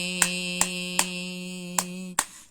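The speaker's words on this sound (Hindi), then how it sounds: "ताली बजाते हुए" Hands clap in a steady rhythm, five sharp claps ringing out over a sustained hum during a worship song, close and fairly loud with no voices.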